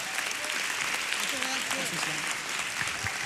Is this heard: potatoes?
no